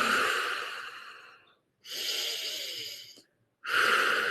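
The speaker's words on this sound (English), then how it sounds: "Inhale, exhale through the mouth." Deep, slow breaths during a guided breathing meditation, three long airy exhales through the mouth separated by brief silent pauses, close and fairly loud.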